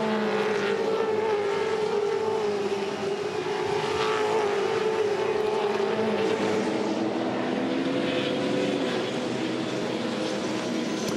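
Supercars V8 touring cars, including a Nissan, racing in the 2014 Perth 400 championship round, their engines a loud continuous roar throughout, holding a steady drone without any talk.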